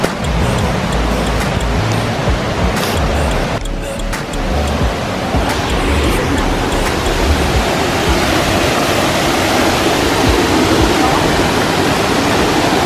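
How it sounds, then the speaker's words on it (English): A small waterfall in Hawaii gives a dense, steady roar of rushing water, loud and continuous with no pauses, close by and unbroken for the whole stretch. "You can kind of already hear the falls."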